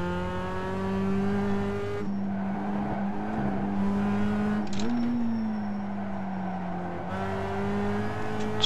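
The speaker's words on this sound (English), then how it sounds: "Car slid a little bit, so I had to correct it." A race car sliding on track in a racing video game, its engine droning steadily at shifting pitch while a loud tire squeal rises and falls across the run, with the engine note dipping and recovering.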